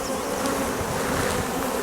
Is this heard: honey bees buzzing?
yes